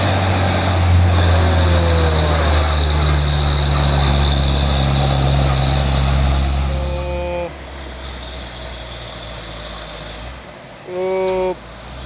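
Heavily loaded Japanese-versus-Chinese trailer truck, a tanker, grinding up the steep Bukit Kodok hill, its deep engine labouring loudly and steadily, then easing off, with a short horn-like toot near the end and people talking nearby.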